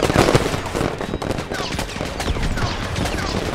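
Dense video-game gunfire from players firing in a sci-fi shooter, a loud continuous fusillade of overlapping bursts and rapid shots with no gaps, close and filling the whole stretch.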